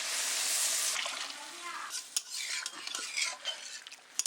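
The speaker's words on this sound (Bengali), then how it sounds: "আর পরিমাণ মতো জল দিয়ে দেবো।" Water is poured into a pot of well-fried spice masala. A bright rushing splash comes first and settles into stirring, with utensil scrapes and clinks against the pot.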